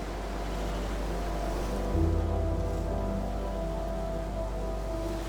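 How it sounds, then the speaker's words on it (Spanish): A river at the bottom of the deep canyon at Constantine sends up a steady, even rushing of water, heard from high above as a constant wash with no voices. "El sonido del río sube desde el fondo del cañón."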